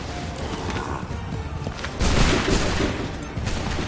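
Musket volley fire from a battle in Assassin's Creed III, a dense, sustained crackle of many shots with a louder burst midway, heavy and close amid battlefield noise.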